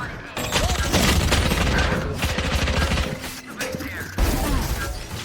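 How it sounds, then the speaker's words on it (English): Sage fires a gun in the Valorant video game, loud continuous rapid gunfire with mechanical clatter and booms, fairly close, running through the whole stretch. "You can literally hear Sage shooting for her life"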